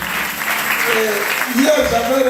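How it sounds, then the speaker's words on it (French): An evangelism campaign congregation claps for a preacher, a loose wash of applause running under an amplified speaking voice and echoing hall noise. "Prédicateur, acclamez très fort pour lui."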